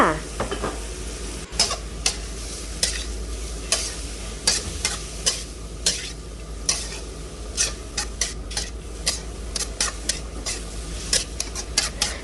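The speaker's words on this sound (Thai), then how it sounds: "ใส่หน่อไม้ลงไป จากนั้นก็ผัดต่อค่ะ" Bamboo shoots stir-fry with dried chilies and chicken egg clusters in a pan, a steady close sizzle punctuated by regular spatula scrapes and clanks against the metal.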